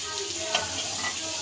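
Chicken sutli kebabs, thread-tied pieces of chicken, sizzle steadily in a hot pan, with a few light clicks and scrapes of turning over a continuous frying hiss.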